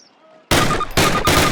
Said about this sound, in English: Fire 3 more rounds at your target.